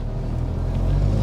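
A shaky used car engine under throttle, its leaky, hole-ridden exhaust adding a loud low rumble that drones steadily and swells slightly toward the end, with the cabin trim rattling.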